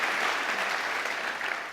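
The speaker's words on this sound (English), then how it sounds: "Give a round of applause to our panel." Applause from the audience at a government panel debate at a landlord investment show, a steady wash of clapping held at an even level for the whole stretch.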